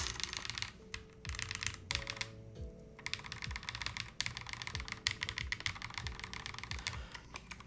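Rapid, steady typing on a Gem80 mechanical keyboard fitted with PBT keycaps, close and crisp, with clustered keystrokes and brief pauses between them.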